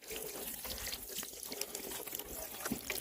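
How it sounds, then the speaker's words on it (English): Water poured onto a small chunk of petrified wood, a steady splashing trickle running the whole few seconds, close and fairly quiet, with no talk. "Pour water on that."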